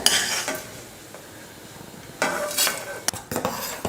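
Utensils scrape and stir vermicelli roasting in a pan with a light sizzle, a few louder clinks and scrapes later, close by with no talking.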